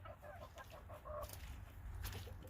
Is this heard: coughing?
no